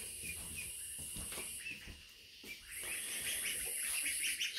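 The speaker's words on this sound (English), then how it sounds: "Here are the ducklings." Ducklings peep in high, thin chirps against a faint outdoor background, with a soft, steady chorus of small calls and no voices.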